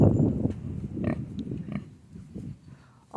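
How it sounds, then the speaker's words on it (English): Kunekune pig on a farm on Long Island snorting and grunting close by, a few short rough bursts over low background noise, ending in a louder squeal-like sound. "Oh, snorting. Snorting is a pig thing."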